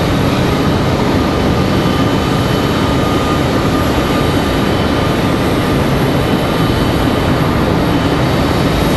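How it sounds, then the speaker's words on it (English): Frontier airliner arriving at Raleigh-Durham International Airport, a dense, constant engine roar with broad rushing noise, loud and near, steady for the whole span without talk. "next arrival is going to be that Frontier 3074 from Cleveland, Ohio"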